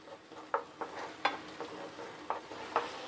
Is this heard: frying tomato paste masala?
yes